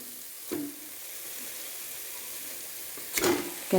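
Chicken added to biryani masala in a pressure cooker, sharp bursts of frying sizzle as pieces hit the hot pan, then a low simmering hiss and another loud sizzle near the end, close and alone.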